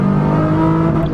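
A single-exhaust drift car revs steadily up close, its engine note holding a loud, sustained drone without any talk over it.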